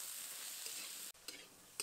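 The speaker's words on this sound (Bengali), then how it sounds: "আলু বেগুন একসাথে নেড়ে নেব" Potatoes and eggplant fry together in a pan during village-style cooking, a steady close sizzle with stirring scrapes that briefly cuts out, then returns with a few sharp clicks.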